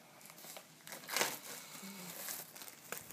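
Crinkling plastic wrap on a Blu-ray package from Shout! Factory, rustling in a steady close-up run with a louder crackling burst near the middle and softer crinkles after.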